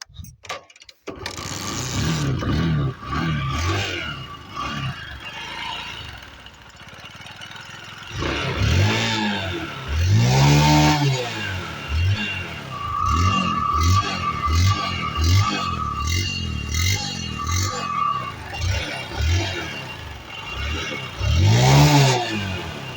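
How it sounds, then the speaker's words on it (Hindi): Bajaj Discover 100 DTS-i motorcycle, a 2013 dual-spark-plug model, revving up and down several times, close by with a steady engine note between bursts and no speech. "इस बाइक की आवाज़ सुनाता हूँ, इस बाइक की आवाज़ कैसे है देखो, आप सुनो।"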